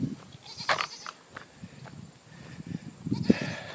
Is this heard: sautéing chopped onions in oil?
no